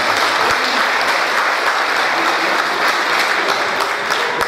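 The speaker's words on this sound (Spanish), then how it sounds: "yo necesito que le den un aplauso para él que está descansando" A live audience applauds in honour of a late drummer at a regional band's stage presentation, with steady, dense clapping filling the whole stretch at full loudness and no voices breaking through.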